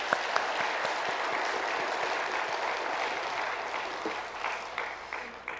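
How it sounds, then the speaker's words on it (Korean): A large church congregation at a Sunday worship service claps together in sustained, dense applause, steady and fairly loud before gradually thinning toward the end. "우리 감사의 박수 한번 올려드리겠습니다."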